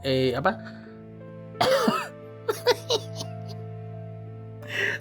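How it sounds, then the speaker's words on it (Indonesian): A man coughs in short bursts during a late-night horror storytelling podcast, a few sharp harsh coughs spread across the moment, close and fairly loud against quiet room tone. "sampai batuk segala"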